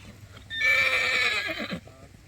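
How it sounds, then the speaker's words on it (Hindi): A horse at a stud farm in Kutch gives one loud, close whinny lasting over a second, with a few hoof clops on hard ground at its end. "घोड़े वाले आ रहे हैं उधर से, आप देख सकते हो।"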